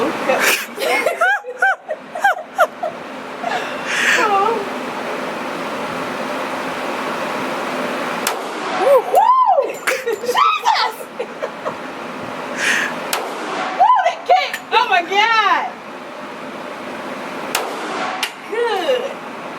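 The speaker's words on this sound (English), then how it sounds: "Daughter about to shoot this 45" A .45 pistol is fired at a target in a few isolated, sharp cracks spaced seconds apart, amid people talking and laughing nearby.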